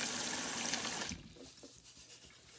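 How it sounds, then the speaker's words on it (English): Salt water poured over cut eggplant to soak it, a steady close splashing pour for about a second before it drops away to soft trickles and faint sloshing. "I'm going to soak the eggplant with water, salt water, so the color will not change."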